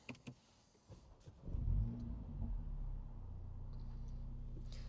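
A 2016 Mercedes A45 AMG starts up nearby: a few clicks and a brief starter whir, then the engine catches with a loud rising burst and settles into a steady, throaty idle.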